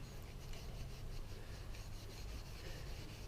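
Steady light rasping rub along the grain of a Winchester 94 rifle's wooden stock, likely fine steel wool, a continuous close scratchy friction with gentle rhythmic strokes and no talk.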